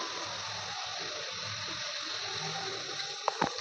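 Starch water drains off 70%-cooked rice for a farm-chicken dum biryani, a soft, steady pouring trickle that stays faint, with a couple of sharp clinks near the end.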